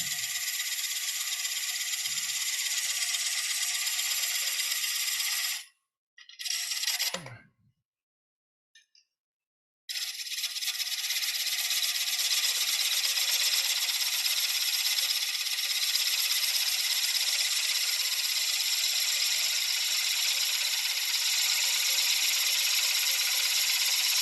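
A wooden bowl spinning on a lathe as a turning tool rides the bevel, giving a loud continuous hiss of cutting that breaks off briefly, with a few knocks, then resumes steady.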